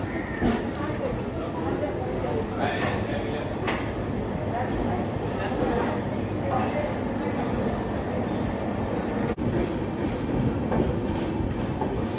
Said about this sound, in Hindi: सूरत स्टेशन आ चुका है, इसके प्लेटफॉर्म नंबर 2 पे हमारी ट्रेन अराइवल हो रही है